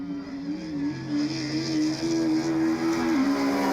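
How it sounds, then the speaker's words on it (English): Super1600 and BMW Mini rallycross cars race at a British RX round, a sustained high engine whine that rises and wavers with revs, heard from a distance without talk. "Engines screaming as they bounce their way onto the tarmac and suddenly have all of that traction once again."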